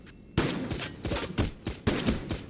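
Gunfire in the video game Payday: The Heist, a quick string of close, loud shots fired in a rough rhythm, each with a sharp attack and short decay.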